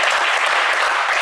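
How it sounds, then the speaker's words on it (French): A TV studio audience breaks into brief, dense, loud applause for a woman named Fabienne, a continuous wash of clapping with no gaps. "Applaudissez Fabienne."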